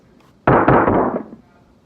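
A snare drum sample pitched far down to B2 gives one heavy, booming hit with a rattling, crackly body that decays over most of a second, alone without voices.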